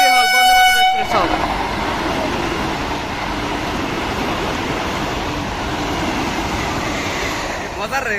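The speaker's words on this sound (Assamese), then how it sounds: "এইটোৱে হ'ল বন্দে মাতরম এক্সপ্রেস।" The Vande Mataram Express sounds a loud horn blast as it arrives, then thunders past up close with a sustained roar of wheels and carriages.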